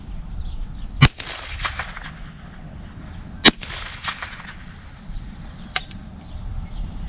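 Three sharp rifle reports from a Bear Creek Arsenal BC-200 lightweight with threaded barrel, spaced a couple of seconds apart, loud and close, with the last one quicker and thinner, over steady outdoor background noise.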